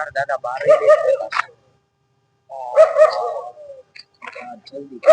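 Street dogs on a road yelp and bark in short bursts close by, with pauses between them and voices mixed in.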